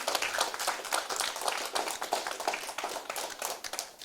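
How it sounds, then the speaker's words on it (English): A debate audience applauds the evening's timekeeper with a brief, dense burst of clapping from many hands, even and moderately loud throughout, with no voices over it. "Please give Miss Lynch a round of applause."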